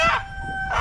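A caught rooster lets out one short, loud, harsh squawk of distress, close by and with nothing else heard.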